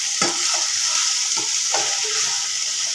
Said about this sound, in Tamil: இந்த வெங்காயம் பச்சை மிளகா கூட இந்த பூவையும் நல்லா வதக்கிக்கிடணும்.